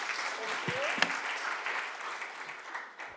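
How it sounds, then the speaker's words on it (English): Applause at a fintech and tech trends talk, a fairly quiet, steady patter of clapping from an audience that carries on for a few seconds with a faint voice or whistle-like tone briefly on top. "Let's give an applause."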